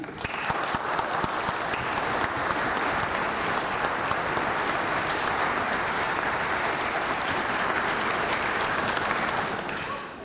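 A church congregation gives sustained applause for the women at a Sunday service, a dense, even wash of many hands clapping at once that holds steady for about ten seconds before easing off at the very end.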